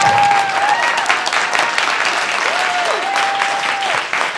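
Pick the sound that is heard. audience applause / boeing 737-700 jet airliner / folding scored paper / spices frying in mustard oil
audience applause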